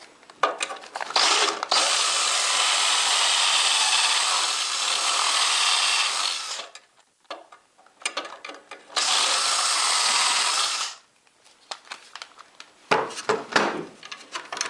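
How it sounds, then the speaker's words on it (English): A power drill bores dowel holes in wood for a barn door build, whining in two long sustained runs of several seconds each, with short rattling bursts and pauses between them, close and loud. "Now I can go ahead and drill the next one"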